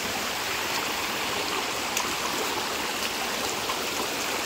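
Water flows steadily in a small stream channel in a Konkan village at night during early monsoon, a continuous soft rushing and trickling heard alone at moderate distance.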